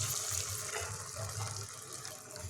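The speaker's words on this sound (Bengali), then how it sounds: "জলটা যোগ করে দিয়েছি।" Water pours into a simmering chickpea chicken curry in a pot, a steady close splashing gush that runs throughout.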